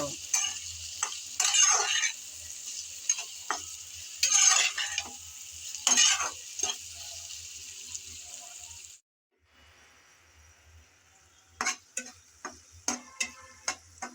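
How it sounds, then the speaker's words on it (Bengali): Prawns with ginger-garlic paste are stirred and fried in a pan for a prawn pickle, a bright steady sizzle broken by distinct spatula scrapes, then a quiet gap followed by sharp clicking strokes, no talking. "আদা আর রসুন বাটা দিয়ে আবারও নেড়ে চেড়ে ভালোভাবে কষিয়ে নেব"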